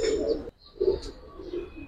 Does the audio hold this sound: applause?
no